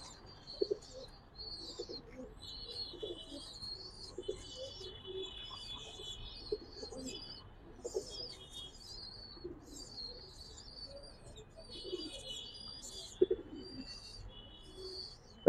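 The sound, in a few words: Giribaz pigeons cooing in a loft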